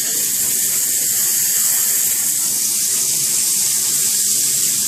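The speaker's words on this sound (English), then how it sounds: "So first I'm going to start by turning on the water." Lukewarm water runs steadily from a tap into a basin for a dog's bath, a loud, continuous hiss and splash with no talking.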